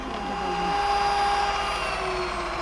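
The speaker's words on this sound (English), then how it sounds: "Now we're going to beat the egg whites until soft peaks are formed." An electric mixer whirs steadily as it beats egg whites with gradually added sugar for a chocolate swirl banana cake, a continuous motorized hum close by with no pauses.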